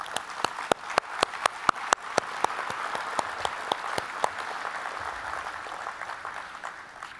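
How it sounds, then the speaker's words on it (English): Applause for corporate table sponsors at a Southwest Indiana Chamber annual meeting and dinner, with a few sharp nearby claps cracking out over a broad crowd clapping that gradually thins toward the end. "how about a round of applause for all of them?"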